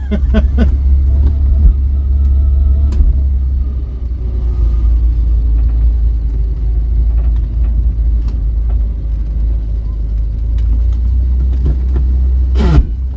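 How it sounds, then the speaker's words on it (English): A salvaged Vauxhall Viva engine runs with a steady, loud low rumble. Its carburettor mixture screw has been adjusted, and a few sharp pops of backfire break through, the strongest near the end. "Bit of backfire."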